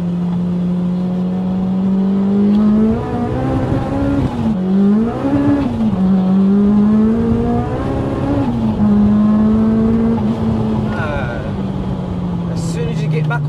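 Rotrex supercharged EP3 Honda Civic Type R, a 450 bhp daily driver, accelerating hard with engine pitch rising and dropping at gear changes, heard from inside the car under continuous conversation.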